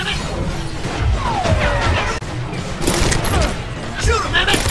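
Gunfire and crashing impacts in the Call of Juarez Gunslinger video game, loud overlapping shots and smashes over a busy, continuous game soundscape with shouted voices throughout.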